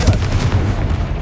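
Confringo blast spell in the Hogwarts Legacy video game, a sharp, loud explosive crack followed by a quick series of punchy low thumps, close and unaccompanied.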